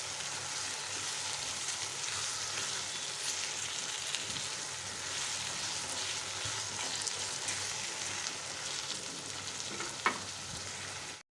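Masala with garlic, ginger, green chilli paste, tomato and salt sizzles in a pan over high heat while being stirred, a loud steady crackling hiss throughout with one sharp clink of the spoon near the end.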